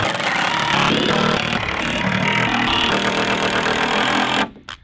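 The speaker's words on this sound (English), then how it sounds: "So now I'm going to try to screw that thing onto this thing." A power drill drives screws through plywood into 2x4 boards while building a half-pipe ramp, giving a loud, continuous close-up whir and grind that holds for several seconds and then cuts off abruptly.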